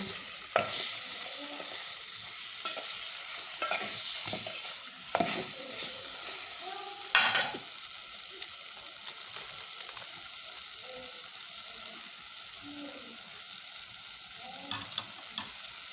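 Jackfruit curry is stirred in a pan with a soft background sizzle, scraping spoon strokes and occasional clanks against the metal recurring throughout.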